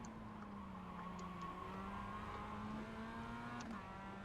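Mazda MX-5 race car engine in the iRacing sim, holding a steady droning pitch with slight rises and dips throughout, loud and continuous with no talk.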